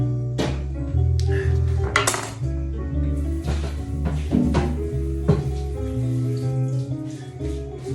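A metal lid is set onto a cooking pot of chili verde, with several sharp clinks and clanks of metal on metal up close, followed by a few lighter knocks and rattles.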